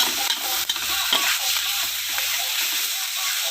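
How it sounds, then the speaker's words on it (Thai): Minced pork stir-fries dry in a hot pan for a red curry stir-fry with egg, with a loud, continuous sizzle and scraping of a spatula tossing the meat, no talking. "คั่วหมูให้แห้งเลย"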